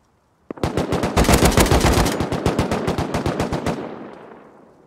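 Rapid automatic gunfire from guns in the survival video game Rust, a loud sustained burst of closely spaced shots lasting several seconds before trailing off into reverb, with no talk over it.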